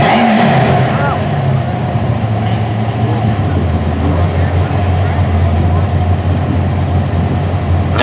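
A 2002 Camaro at a drag strip, its engine a steady loud drone with a sustained low tone after an early rising rev, continuous through the whole stretch amid track ambience.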